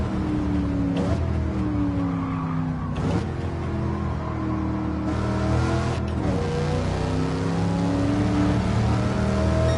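Pontiac Firebird Trans Am engine in Gran Turismo 7 on the Nordschleife, revving hard through the gears with rising and falling harmonic whine and brief shift dips, loud and continuous throughout.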